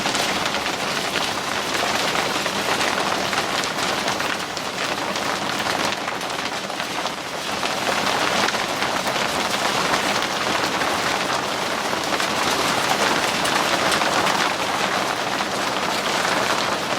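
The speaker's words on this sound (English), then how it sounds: "That's just the rain on the roof." Heavy rain drumming on a roof in a steady, dense, unbroken hiss and patter, loud and close throughout with no pauses and no talking.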